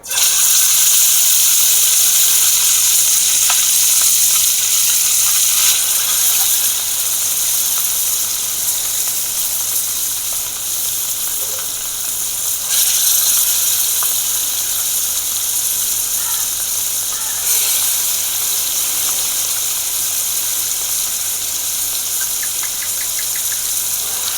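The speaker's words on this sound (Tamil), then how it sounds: "எண்ணெய் ஊற்றிச்சு இப்போ நம்ம இதில் மீனை வச்சிடலாம்" Mackerel coated in masala sizzles steadily in hot oil in a pan, a loud, constant broadband hiss that holds for the full stretch with slight swells and no talking.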